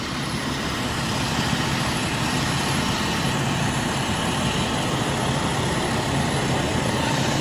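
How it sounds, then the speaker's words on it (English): Two Mercy Air helicopters circling over a Los Angeles fire scene, a continuous loud rotor and engine drone that stays steady throughout with no talk. "So here's the 2 helicopters."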